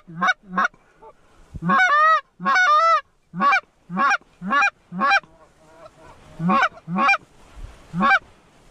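Geese honk loudly and close overhead during a waterfowl hunt over decoys, a series of about a dozen sharp honks in uneven bursts.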